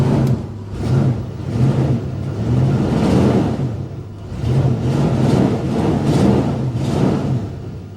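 A Copart RV's engine with 60,000 miles idles at close range, a steady low rumble with a rhythmic mid-range pulse that rises and falls gently throughout, with no talking over it.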